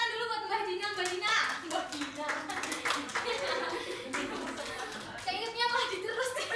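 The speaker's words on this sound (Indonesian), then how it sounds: "Semuanya tepuk tangan dulu buat Mbak Dina" Classmates clap for a student after her presentation in a classroom, a lively patter of hand claps running throughout while children's voices and talk continue over it.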